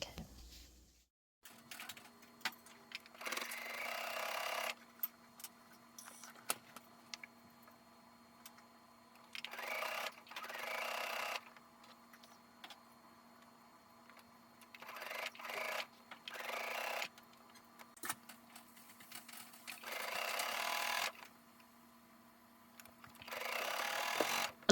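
A sewing machine hems the satin lining of a wedding dress in a quiet room, running in several short, separate bursts of whirring stitching with pauses between them and a faint steady hum underneath.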